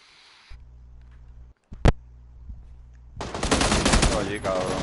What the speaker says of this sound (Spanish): Te quiere tirar en automático.